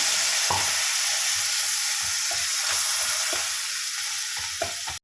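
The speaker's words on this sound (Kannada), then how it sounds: "ಇದನ್ನು ಸ್ವಲ್ಪ ಡ್ರೈಯಲ್ಲೇ ನಾವು ಫ್ರೈ ಮಾಡ್ಕೋಬೇಕು" Thick masala frying almost dry in a pan for dhaba-style mushroom gravy: a continuous close sizzle broken by repeated scraping stirs of a spoon, with no voices.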